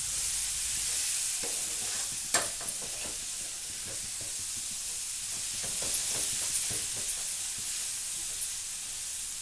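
Cluster beans being stirred in a pan as they cook, with a steady sizzling hiss and repeated scraping, clacking spatula strokes, close and fairly loud, with no talk.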